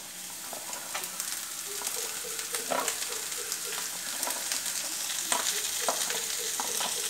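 Green beans stir-frying in a pan for a bean thoran, a steady bright sizzle with scattered crackles and the occasional scrape of stirring, close and continuous with no talking.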